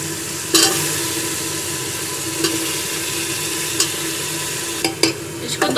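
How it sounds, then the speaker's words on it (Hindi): Potatoes, paneer and spices for vegetable biryani fry in a pan with a steady, loud sizzle, broken by a few sharp scrapes and clanks of a stirring spoon against the pot. "इसको 2-3 मिनट इतना भुनेंगे कि मसाले का कच्चापन निकल जाए।"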